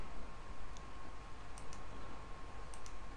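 A few faint, sparse clicks, likely from a computer mouse used while browsing photographs, sit over a steady low background hum.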